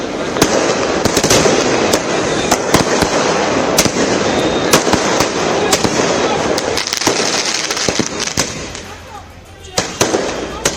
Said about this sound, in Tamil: கூடிய தொண்டர்கள் பட்டாசு வெடித்து தங்கள் மகிழ்ச்சியை வெளிப்படுத்தினர்